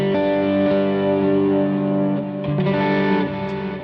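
Electric guitar played through a modulated Revelation reverb on a Line 6 HX Stomp XL, sustained chords with long shimmering trails, fairly loud and alone.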